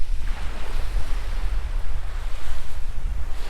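Ocean surf rolling onto the beach beside Melbourne Mobile RV Park, a steady low roar of breaking waves with wind buffeting the microphone, close and continuous with no voices.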